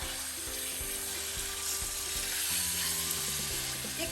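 Rui fish frying in mustard in a pan, a steady bright sizzle with soft scraping and stirring taps as the pieces are gently turned, close and continuous with no voices.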